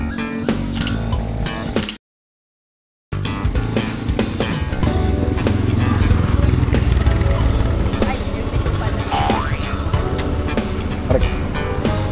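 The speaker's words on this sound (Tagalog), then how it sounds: "i-start ko na yung motor ko" A motorcycle engine turns over and settles into a steady idle, rumbling close by after a brief silent gap, with a voice talking over it.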